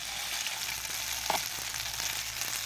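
Boiled macaroni fries gently in ghee, giving a soft, steady close sizzle with a faint stirring clink, no voices.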